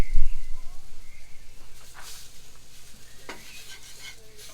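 Potatoes sizzle softly in a pan on a built-in RV grill, with a stirring scrape near the start and occasional clinks of a utensil against cookware over a steady low crackle.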